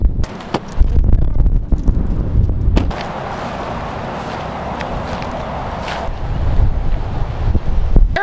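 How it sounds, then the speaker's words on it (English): Strong wind blows across an RV campsite, gusting and buffeting the microphone in heavy low roars that ease into a steadier rush midway before picking up again, with no talking. "It is windy"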